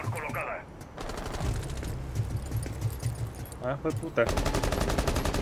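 Rapid bursts of automatic gunfire in the tactical shooter game Rainbow Six Siege, a loud fusillade of repeated shots running under a player's excited talk.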